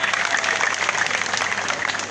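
Villagers applauding at a community assembly in Musenyi, Bugesera District, a brief burst of dense, continuous clapping from a nearby group at moderate volume.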